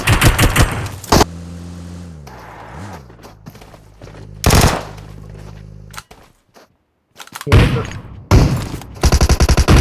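Vector rapid gunfire in a shooting video game, loud bursts of automatic fire opening and closing the stretch with scattered single shots, quieter lulls and a brief silent gap between.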